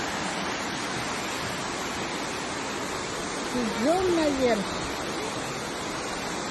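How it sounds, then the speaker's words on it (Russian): A mountain river in a Korean park rushes in a steady, broad hiss. A single voice speaks briefly over the water midway. "Очередная горная река."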